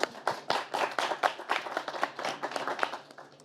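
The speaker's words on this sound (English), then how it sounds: "Round of applause." A small audience at a live discussion in the ICE Village at the World Economic Forum in Davos claps, individual hand claps audible in a quick, uneven patter rather than a dense roar, tapering off at the end.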